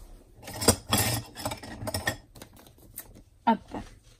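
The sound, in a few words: scissors being handled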